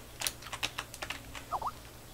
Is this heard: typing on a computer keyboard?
yes